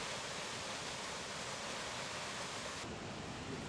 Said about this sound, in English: Seen most spectacularly here, at Angel Falls, the highest uninterrupted waterfall anywhere on Earth.